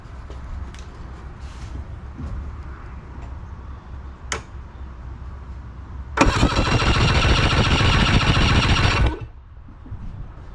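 An outboard motor cranks over with a compression gauge screwed into its second cylinder, a loud, rapid, even churning that starts abruptly, runs about three seconds and cuts off, after quiet background.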